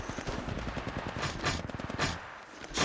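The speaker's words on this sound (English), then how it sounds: "The second squad is firing at us" An enemy squad's automatic gunfire in Apex Legends Mobile rattles in quick repeated bursts, close and loud, with short gaps between volleys.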